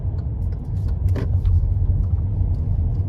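A car drives along a busy Kyiv street on a driving-test route, its low engine rumble and road noise steady throughout, with faint clicks and traffic sounds nearby.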